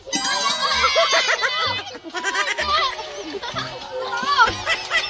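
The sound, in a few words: goat bleating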